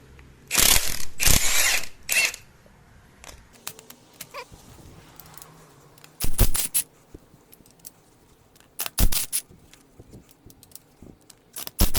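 A ratchet wrench loosens 13 mm cylinder head bolts on a Ford Ranger 2.3L engine. It makes loud bursts of rapid clicking, with quieter metallic handling and faint clinks in the pauses between them.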